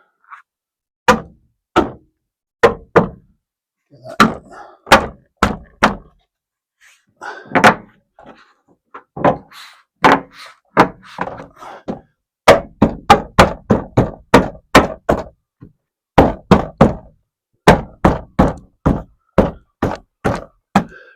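A car's interior door card is knocked firmly back into place with repeated sharp thumps and knocks, in bursts of rapid hits separated by short pauses, close and loud, with a brief spoken remark.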